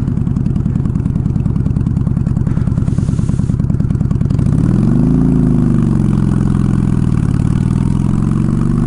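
A Honda Shadow motorcycle engine chugs at a rough idle, then revs up and pulls away on a road with rising and falling pitch, loud and close with no talk.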